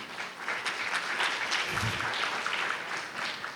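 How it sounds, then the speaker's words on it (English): Dense, steady applause from a seated audience at an annual public art convention session, filling the room evenly for a few seconds with no voices over it. "that rightly received applause"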